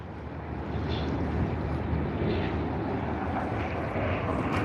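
An airliner in oneworld livery, bound for Bengaluru, rumbles at Sydney Airport in the early morning, a steady, moderately loud engine drone holding evenly throughout with no voices.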